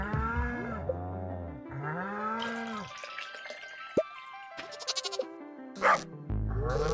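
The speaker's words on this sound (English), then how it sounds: "Hey, I can milk the goats now." Goats in Stardew Valley let out several wavering cartoonish bleats in quick succession, followed by sparse game interface blips and clicks, clear and fairly quiet.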